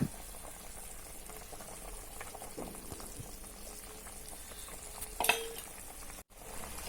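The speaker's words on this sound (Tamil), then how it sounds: "இப்போ குழம்பு பாருங்கள் நல்லா த கொதிக்க ஆரம்பிச்சிருச்சு" A pot of sardine fish curry bubbling at a soft boil while a spoon stirs through it, with a faint scrape near the end.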